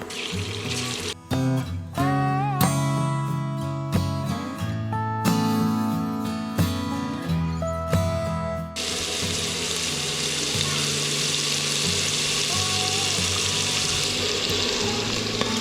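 Prawns go into hot oil and fry with a loud, dense, continuous sizzle, arriving after a stretch of music that carries on faintly beneath the frying.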